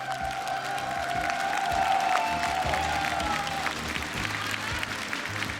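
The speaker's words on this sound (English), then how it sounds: "Vitality are still clapping you" An arena crowd at a Six Invitational esports final applauds steadily after a world-championship win, with cheers and a sustained whoop over a thick, continuous wash of clapping.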